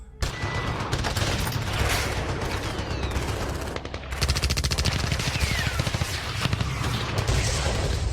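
Sustained automatic gunfire serves as a sound effect in a comic audio drama, with dense rapid bursts filling the scene loudly and continuously, a short lull near the middle and then renewed firing.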